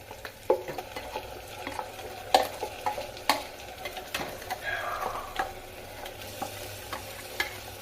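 Spinach paste fries in oil with onions, a soft continuous sizzle under repeated light ticks and taps of a spoon stirring the pan, close but fairly quiet.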